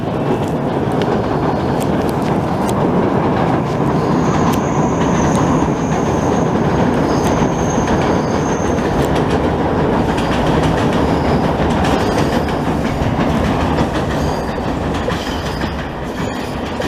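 Montreal commuter train passing close by, a loud sustained rumble of wheels and rail clatter with faint squealing tones, lasting throughout with no voices.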